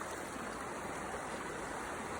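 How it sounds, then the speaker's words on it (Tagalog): A river flows steadily with a soft, constant broadband rush, fairly quiet and unbroken, with no talking. "Hello! Ilog tayo!"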